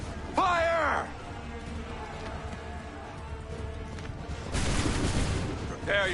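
A musket volley fired on command in Assassin's Creed 3 comes as one broad, crackling burst about two-thirds of the way through, after a shouted voice and over a low ambient rumble.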